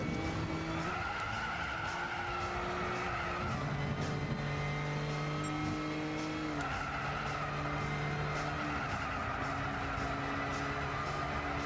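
Cars race in Gran Turismo 6, including an NSX: a continuous engine drone runs with tire skids and squeals, and the game sounds play steadily without talk.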